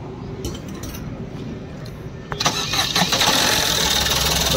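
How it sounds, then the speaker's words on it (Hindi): A diesel car with a jammed turbo cranks over and fires up after a quiet stretch with faint clinks, the starter catching at mid-clip and settling into a loud, steady running engine. "तो गाड़ी को करते स्टार्ट"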